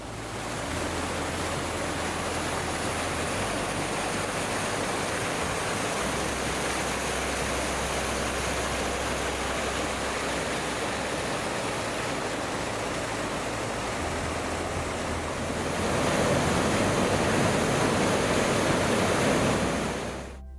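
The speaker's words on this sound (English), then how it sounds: "you'll start to see where the water falls and starts to disappear underneath the rocks" Water in Underground Creek in Girraween National Park falls over rocks with a constant, close rush. The rush swells louder near the end, and there are no voices.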